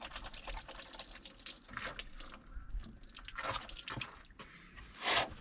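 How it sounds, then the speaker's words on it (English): Hands are washed under a trickle of water at a solo campsite at Lake Mead, with splashing, dripping and wet rubbing sounds close by, swelling into a louder splash near the end, with no talking. "and let's wash our hands again."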